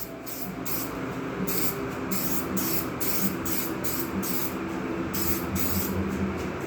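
An aerosol spray can lays a light coat of paint on a GT185 part in short repeated hissing bursts, about a dozen evenly spaced sprays, close and crisp over a steady background hum.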